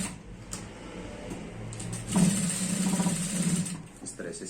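Sewing machine stitching a girl's skirt, its rapid mechanical whir rising partway through and running steadily at close range, with a voice talking over it.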